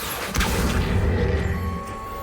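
A Depulso force spell cast in Hogwarts Legacy, heard as a sudden, loud whooshing blast with a crash-like impact near the start, followed by a sustained rumbling magical wash.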